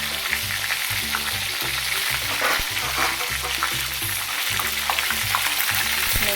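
Stuffed pinaputok tilapia fries in oil in a covered pan, giving a steady, dense sizzle that runs the whole time at an even level, with a low, rhythmic backing underneath.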